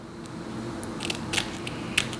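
Scissors snip away excess lace on a curly highlight wig in a few quiet, crisp cuts, spaced irregularly over a soft background hum.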